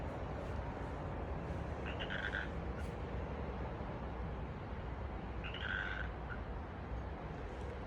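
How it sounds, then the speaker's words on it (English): Frog croaking near a pond, two short rasping calls a few seconds apart over a faint steady outdoor background, with a brief bird chirp between them. "I hear a frog."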